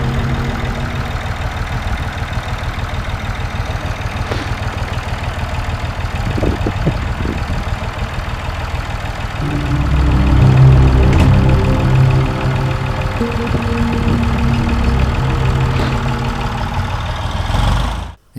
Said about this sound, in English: suddenly Tom spotted an approaching tractor